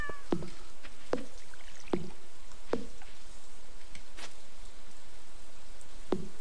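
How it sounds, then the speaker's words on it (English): A cat in the farming video game Stardew Valley meows six times at uneven intervals, each call short and gliding downward, over a constant rain-like hiss. "Oh, there he is. Hey, Cat Ben."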